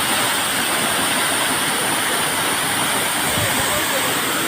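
A loud, steady roar of the Kallaleli waterfall fills the whole clip, a dense continuous rush close by with no break.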